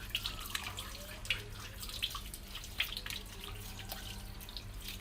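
Hands being rinsed clean of soap or hand gel under running water, a faint, steady trickle with small irregular drips and splashes and no speech.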